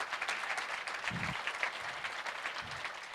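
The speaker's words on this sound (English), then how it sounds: "Give him a big round of applause." An audience at a soil symposium applauds a man named Chris, a soft, steady spread of clapping heard from some distance, with a few low thumps under it.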